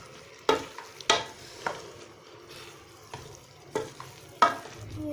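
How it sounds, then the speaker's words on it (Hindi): Vegetables sauté in a hot pan as a spatula stirs and tosses them, giving a handful of distinct scraping strokes over a soft sizzle, close by and with no speech. "अब हम इसकी अच्छी सी ज़रा भुनाई कर लेते हैं, इसको मिक्स कर लेते हैं अच्छी तरह से।"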